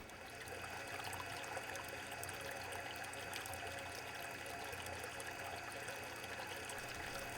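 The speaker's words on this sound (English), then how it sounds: "The water will get pumped over the tower of media trays and gravity flow back to the holding tank." Water pumped over a stacked tower of media trays in an inexpensive homemade trickle filter drains by gravity back to a holding tank, making a steady, dense close-up trickling and splashing with no talk.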